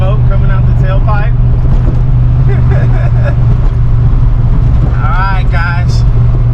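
Ford Foxbody Mustang engine running on 10 pounds of boost, a loud, steady drone up close as it pulls hard, with people talking over it throughout.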